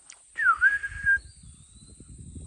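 A single clear whistled phrase from a wild bird outdoors, a swooping note that dips and then rises before holding steady, followed by soft rustling and shuffling nearby.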